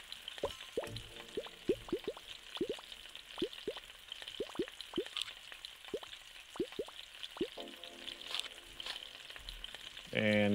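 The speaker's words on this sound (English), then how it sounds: "Alright, we just gotta fry this burger." A burger fries on the grill in the Galaxy Burger video game: a steady synthetic sizzle dotted with quick, bubbly popping blips at an irregular rhythm, ending with a sharper burst.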